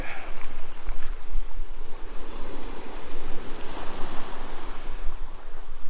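Steady ocean surf rolls in at St. Audrie's Bay, a beach with wet rocks, a loud continuous wash of breaking waves with some wind buffeting.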